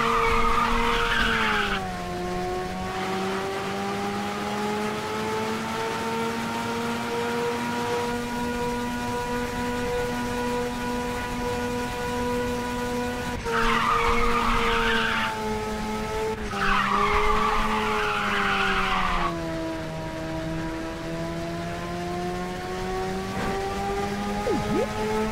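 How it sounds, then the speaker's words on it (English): A car in the Xbox 360 racer Ridge Racer 6 holds a long nitrous drift, its engine droning steadily while tires squeal in loud repeated bursts throughout. "Nitrous drift!"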